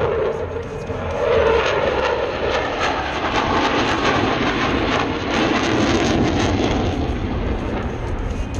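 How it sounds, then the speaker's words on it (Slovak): Eurofighter jet with afterburner engaged roars past at an airshow, a loud continuous broadband thunder with a steady rumble that holds for the full duration, with no voices audible over it. "stále vidíte, že tá forsáž je nahodená, tlačí do toho, čo to dá"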